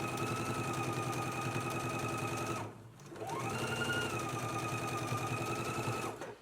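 A sewing machine topstitches along the shoulder seams of a girls' and misses' dress yoke, a close, steady whirring run that pauses briefly midway and then resumes.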